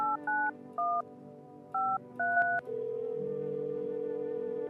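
Telephone dialing in the video game No I'm Not A Human: a quick series of dual-tone keypad beeps in uneven bursts, then a steady ringing tone holds on, clear and close.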